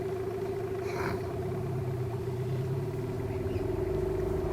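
On a small fishing boat, an engine runs steadily with a throbbing, mid-pitched drone that rises slightly in revs. It is loud and close, with no voices over it.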